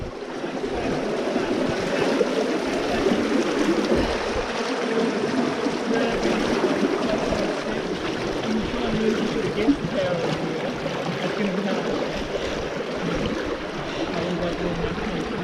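A flowing stream at a trout fishing spot, a steady broadband rush and burble of water lasting the whole stretch, fairly close and constant, with faint speech mixed in.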